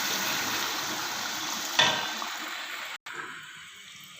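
Hot water pours steadily into a cooking pot for vegetable pilau with a rushing splash, a brief metallic clink partway through, then the flow quiets.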